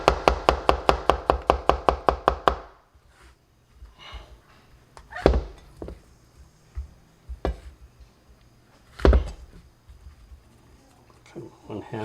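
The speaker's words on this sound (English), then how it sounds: "I don't know how other people cut mushrooms, I guess. I'll try a new way." Rapid knife chops on a cutting board, about a dozen crisp evenly spaced strikes, as mushrooms are sliced thin for a steak Diane sauce; quieter scattered knocks and handling noises follow after the burst.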